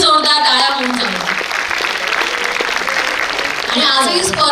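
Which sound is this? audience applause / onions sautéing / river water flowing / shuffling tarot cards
audience applause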